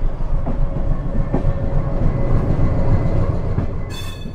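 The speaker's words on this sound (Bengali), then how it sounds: "ট্রেন কিন্তু একদম রাইট টাইমেই হাওড়া স্টেশন ছেড়ে এগিয়ে চললো তার গন্তব্যের দিকে।" The 12023 Howrah-Patna Jan Shatabdi Express pulls out of Howrah station, with a loud, steady rumble of rolling wheels, rhythmic clicks over rail joints and a brief squeal near the end, heard from on board.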